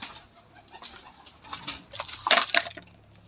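Pigeons close by, with soft fluttering and flapping sounds building to a brief flurry of wings, then quieting.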